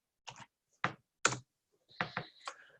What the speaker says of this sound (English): I'm typing very quickly because I'm making some quick decisions here